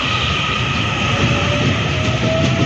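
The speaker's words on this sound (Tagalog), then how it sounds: "Mabilis na tren." A fast train bound for Taipei rushes past close by, a steady loud roar of rail noise with faint wheel squeal, continuous throughout with no talking.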